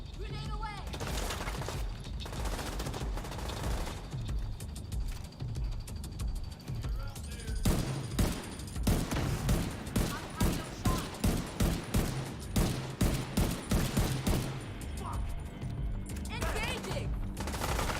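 Gunfire in the video game The Division 2, a steady run of rapid shots with sharper bursts toward the middle, loud and close, with voices heard over the shooting.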